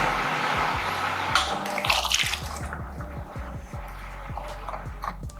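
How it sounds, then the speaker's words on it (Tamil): A low-cost manual washing machine runs with water sloshing and churning inside its tub, a steady wet swishing with rhythmic low thumps from the agitator, heard close and alone. "உங்களுக்கு வாஷிங் மிஷினோட சவுண்டு எல்லாம் அப்சர்வ் பண்ணியிருப்பீங்க நீங்கள்."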